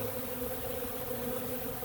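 Honeybees buzz steadily and close by, swarming and flying around the legs in a continuous drone with no talk over it.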